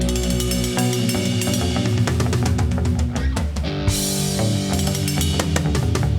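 Electric guitar run through a Steinberg Cubase amp simulator sits back in a dense full mix with drums and cymbal hits, sounding distant, with a brief dip partway through before the band continues.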